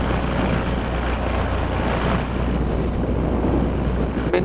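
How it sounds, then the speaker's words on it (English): Steady gusty wind roars across the microphone during a cross-country paramotor flight near an airport, a loud continuous buffeting rush with a low rumble underneath and no talking. "It is gusty."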